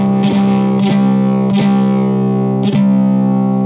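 Electric violin played through an IR amp pedal set for distortion gives sustained, buzzy overdriven notes with several bowed attacks, loud and alone.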